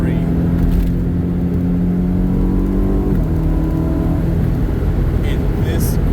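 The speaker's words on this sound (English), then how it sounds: "just being out with in nature with a naturally aspirated 8-cylinder 4-liter M3" A naturally aspirated 4-liter V8 in a BMW M3 cruises steadily on a mountain parkway, with a continuous engine hum and shifting tones throughout and no pause.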